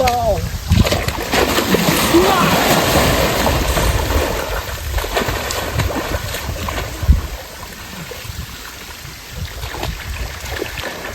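Water splashing in a village pond as someone washes themselves, loud and close with continuous sloshing, while voices talk over it.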